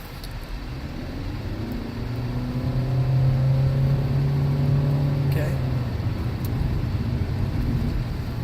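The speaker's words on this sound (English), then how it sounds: "let's see how it is under full acceleration. See if you guys can't hear this." A 2019 Honda Insight hybrid pulls hard under full throttle, its engine droning steadily louder with a rising tone over a constant road rumble, heard from inside the cabin.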